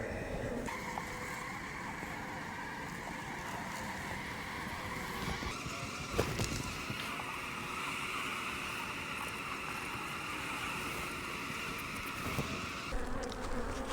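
Honeybees hum continuously around a swarm hive frame, a dense steady buzz held at close range with occasional handling knocks and no talking.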